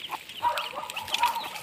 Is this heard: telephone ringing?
no